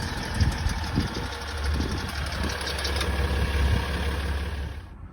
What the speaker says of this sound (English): So that kind of few seconds of just clunk rattle while you start it